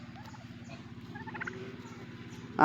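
Turkeys on a farm in Darrang, Assam, gobble in bursts while grazing, over a steady low background, with a louder, closer gobble near the end.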